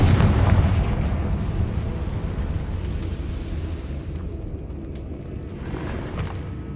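A Confringo blasting spell erupts in a cave in Hogwarts Legacy: a heavy boom at the start that rolls into a long, rumbling, crumbling decay, loud up close and fading over several seconds, with no talk.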